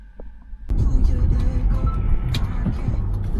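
A taxi car on a road in Dnipro pulls away after a quiet moment, and its low engine and road rumble rise suddenly and stay steady and close.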